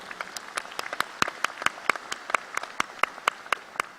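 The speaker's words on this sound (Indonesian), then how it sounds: "Kita beri tepuk tangan meriah untuk Riway Internasional." A small gathering at a Malaysian leadership training event applauds Riway International with sparse, distinct hand claps in an uneven rhythm, each clap sharp and clearly separated, at moderate volume.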